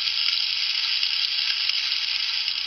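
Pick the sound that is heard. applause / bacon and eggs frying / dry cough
bacon and eggs frying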